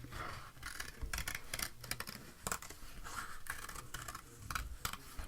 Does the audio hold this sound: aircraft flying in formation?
no